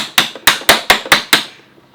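A plastic toy hammer strikes a Vtech Drill & Learn Toolbox six times in a quick, even rhythm, each knock sharp, close and loud, followed by a short fading ring.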